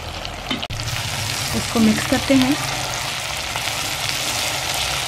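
Fried okra being stirred into masala in a cooking pot for a Pakistani bhindi dish, a steady sizzle with a sharp scrape early on and a few short vocal sounds under the frying.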